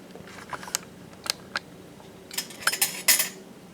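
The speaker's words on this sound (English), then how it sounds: "we are going to need a spoon and probably a table knife to scrape the top of the flour" A metal spoon and table knife handled near a jar of sourdough starter made with unbleached all-purpose flour, a few sharp scattered clinks and scrapes, close and fairly quiet, with a denser cluster of clatter near the end.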